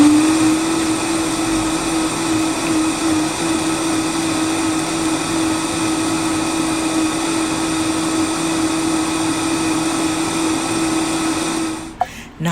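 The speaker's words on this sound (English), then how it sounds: "let's blend away" A blender runs steadily on salsa seasoned with salt, cumin and black pepper, a loud continuous motor whir with a stable hum that holds for about twelve seconds, then cuts off abruptly near the end.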